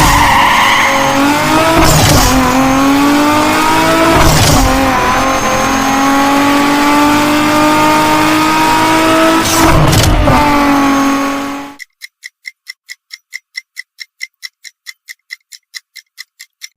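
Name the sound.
Toyota car engine sound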